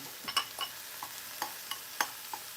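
Onions sauté in a pan for a vegan bolognese, giving a soft, faint sizzle broken by scattered light clicks and scrapes from stirring, with no talking.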